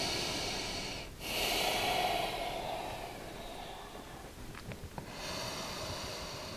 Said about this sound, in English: taking a couple of breaths here